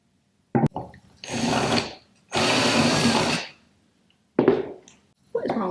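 A power drill whirs in several short bursts while removing screws, each run lasting about a second with pauses between, close and fairly loud, with a sharp click at the start.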